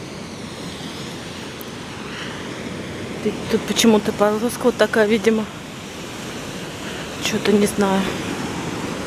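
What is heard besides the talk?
stormy sea waves on a beach in Spain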